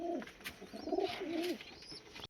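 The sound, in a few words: pigeons cooing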